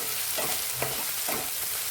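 Onion sizzles steadily in a pan as it fries toward golden for masala bombil, with a few soft stirring scrapes heard up close over the constant hiss.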